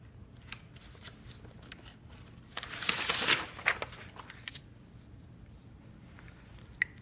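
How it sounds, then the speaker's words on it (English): Sheets of paper slide and get grabbed on a desk: a short rustling swish in the middle, surrounded by faint scattered clicks and handling noises. "I'm going to slide this guy over here and grab a new piece of paper."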